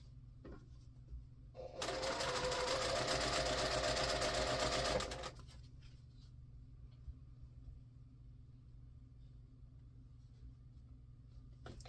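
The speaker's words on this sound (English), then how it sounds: "chain piece these right through, easy peasy." Sewing machine chain piecing quarter-inch seams through fabric pieces laid right sides together for a table runner, a steady close whirring run of about three seconds that starts abruptly and stops, with a low background hum before and after.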